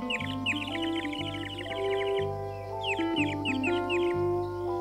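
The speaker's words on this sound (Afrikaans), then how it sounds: "En 'n paar voëls." Birds calling outdoors in a forest, repeated short chirps and tweets scattered over a steady, looping background of musical tones.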